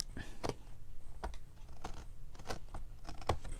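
Scissors trimming a no-sew Christmas journal made as a gift box, giving a few short, crisp snips spaced across a few seconds, close by, with no talking.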